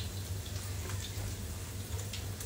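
Water pours steadily into a cooking pot of rice and vegetables, a brief close splashing gush at moderate level with no talking.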